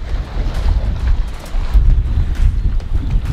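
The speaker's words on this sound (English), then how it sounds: "the wind's blowing 20 to 25 knots on the broadside" Strong wind of 20 to 25 knots buffets a sailboat leaving a harbor, a steady low roar with gusty swells throughout and no voices.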